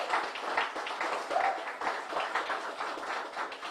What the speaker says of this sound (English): Please, one round of applause for Southern University.